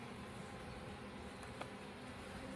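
Honey bees buzzing around an open, thriving hive during an inspection, a continuous, even drone of many wings, close and steady with no talking.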